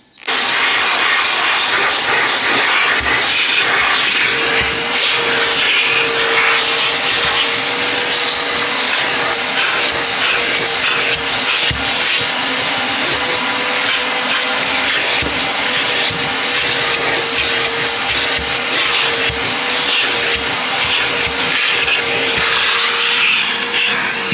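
A vacuum cleaner runs steadily and loudly throughout inside a Honda S2000 interior, a constant whining roar with slight shifts as the nozzle moves, no voices.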